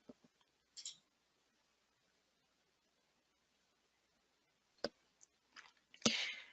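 Mouse clicks in data-analysis software on a computer, a few short, faint, close clicks spaced out in an otherwise near-silent room, with a small cluster near the end.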